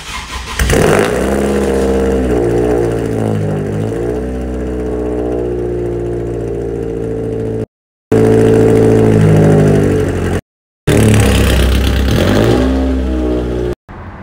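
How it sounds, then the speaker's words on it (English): A Toyota Celica engine cranks and cold-starts, then settles into a steady, harmonically rich idle with a few rises in pitch. The sound is close and loud, broken by two short silent gaps. "So I'm gonna give you a cold start right now."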